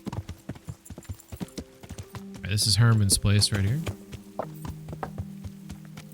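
Horse hooves clip-clop in Kingdom Come: Deliverance, a steady walking rhythm of close hoofbeats that runs throughout while someone talks over the middle section.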